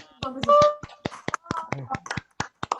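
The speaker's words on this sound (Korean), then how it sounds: "우리 오늘 수업 돌아보기로 수고해준 우리 친구들에게 큰 박수 부탁드립니다." Scattered hand claps at a school winter showcase, as an audience applauds the students; the claps come as a loose, uneven patter of sharp, close strikes, with voices talking over them.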